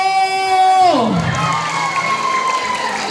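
A crowd at a beauty pageant's national costume segment breaks into loud, sustained cheering and applause right after a sliding tone, the shouting filling the rest of the moment.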